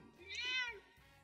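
A house cat gives a single drawn-out meow, fairly close but soft, rising and then falling over about half a second against quiet room noise.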